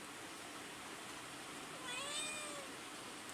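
Several cats meow for food early in the morning, a few rising, wavering cries in the middle, moderately close over steady background hiss.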